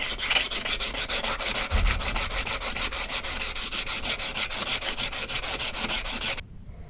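A cheap hatchet's hardwood handle being sanded by hand, steady rapid back-and-forth rasping strokes, close and continuous for several seconds before stopping abruptly; no talking.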